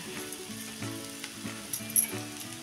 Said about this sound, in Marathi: आणि चांगली मऊ होईपर्यंत ही खिचडी आपण अशी परतून घेऊया